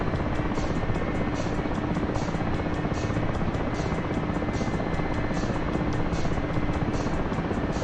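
An aircraft in the ArmA and DCS combat simulator games rumbles through a rolling takeoff, giving a dense, loud, continuous engine and rotor-like roar with a fast steady pulse and no speech.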